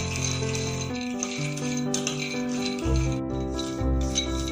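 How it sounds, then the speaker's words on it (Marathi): A bowl of peanuts is dry-roasted and stirred in a pan for poha ladoo, making soft, irregular rattling and scraping close by under steady background music. "आता आपण याच्यामध्ये एक वाटी शेंगदाणे भाजून घेऊया शेंगदाणे लालसर होऊस तोपर्यंत भाजून घ्यावे"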